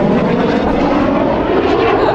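Jets of Canada's Snowbirds aerobatic team fly overhead, producing a loud, steady, broadband engine roar that fills the whole stretch without a break.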